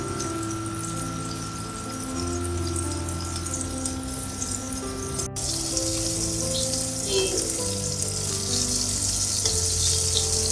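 Zinger burger chicken pieces frying in hot oil, a constant bright sizzle and crackle that swells louder partway through, close, with no voices.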